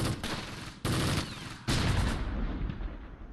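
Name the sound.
gunfire shots in Close Combat video game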